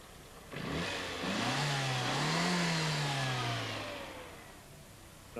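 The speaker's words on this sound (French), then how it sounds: "Ce test est effectué en ouvrant les gaz rapidement 2 ou 3 fois." An Austin Metro engine is revved by opening the throttle quickly a couple of times, rising from a steady idle to a loud, swelling roar that holds, then falls back toward idle. No voices.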